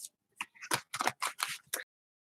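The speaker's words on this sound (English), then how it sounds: "So I'm going to shuffle real quick just to go ahead and clear the energy off of this." A deck of tarot cards is shuffled by hand, making about seven quick, close, papery bursts in a rapid run, then silence.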